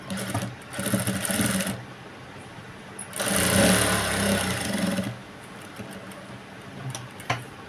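Stitching a twice-folded blouse hook strip, a sewing machine rattles in two short, close bursts separated by a quiet pause.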